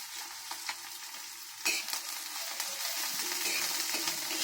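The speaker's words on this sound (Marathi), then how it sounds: "हा चांगला कांदा इकडे फ्राय होईपर्यंत आहे ना" Onion and chili fry in a pan on a griddle, giving a steady sizzle with occasional scrapes and taps of a spatula, heard close with no talking.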